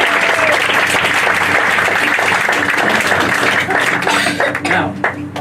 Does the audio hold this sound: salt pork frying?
no